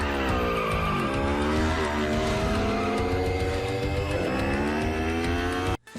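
A car drifts with its engine roaring and revving in rising and falling sweeps while the tires squeal loudly and continuously, the noise cutting off abruptly near the end.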